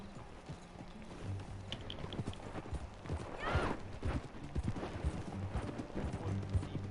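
Horse hooves clip-clop steadily at a walking pace in Red Dead Redemption II, with a brief whinny and faint ambient background underneath.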